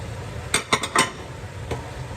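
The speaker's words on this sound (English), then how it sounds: "make sure to stir well. Try to get those mushrooms down in the pot" A utensil stirs mushrooms in a pot for udon, giving a quick cluster of three or four sharp metallic clinks and scrapes, then a pause and one more clink, close and fairly loud.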